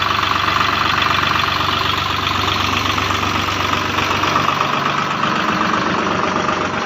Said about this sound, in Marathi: बघू शकता ट्रॅक्टर आपला चालू आहे।